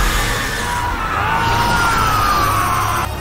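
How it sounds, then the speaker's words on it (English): Continuous loud yelling and screaming from Sonic Frontiers gameplay, a sustained wash of strained voices over a dense, noisy backdrop that barely lets up across the few seconds. "Why are there so much screaming?"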